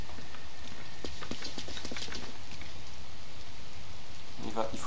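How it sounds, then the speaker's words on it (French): Steady rain pours down in the video game Zelda Breath of the Wild, a dense continuous hiss with scattered pattering drops, loud and unbroken throughout. "Il faut qu'on attende qu'il arrête de pleuvoir pour pouvoir faire ça."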